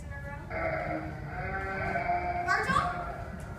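Sheep bleats sounding in a Tuna Christmas stage play come as wavering, drawn-out cries over a murmuring audience and room noise, with a sharper, louder bleat near the end.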